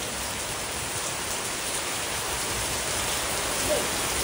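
Steady rain hisses continuously and evenly, a dense wash of noise with no pauses and no voices.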